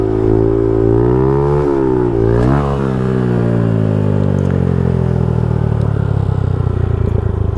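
A Honda Grom motorcycle engine revs hard during a wheelie, the pitch climbing, dipping sharply as the throttle eases, then winding down; close and loud with no talking.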